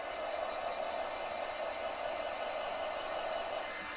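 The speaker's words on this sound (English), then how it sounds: "So we're going to heat up our heat tool" An embossing heat tool blows hot air in an unbroken, even hiss-like roar, close and steady throughout, with no voices over it.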